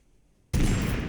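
A dynamite explosion in TABG (Totally Accurate Battlegrounds) bursts suddenly out of near silence, one loud, broad blast that stays roaring to the end.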